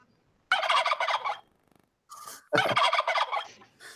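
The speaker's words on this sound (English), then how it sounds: "We're gonna hear the turkey sound." Two bursts of turkey gobbling serve as a wrap-up cue, each a loud, rapid warbling run with a short gap between them; no talk.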